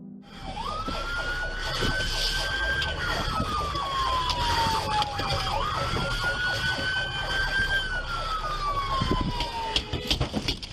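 A police car siren wails in long rising and falling sweeps during a pursuit, loud and continuous over engine and road noise, with a clatter near the end.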